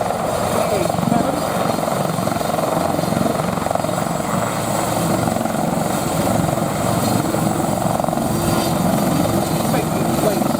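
A helicopter flies a display at the Abingdon 2023 air show, its rotor chop and engine whine a loud, constant drone throughout, with a commentator talking over it.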